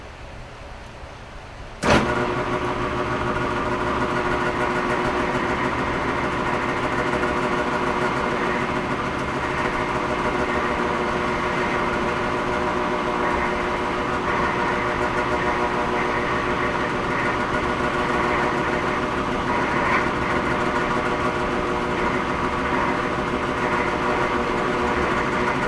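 A metal lathe spins steadily at 220 RPM, giving a loud, continuous mechanical drone and hum that starts abruptly and runs unbroken for the whole stretch, with no speech over it.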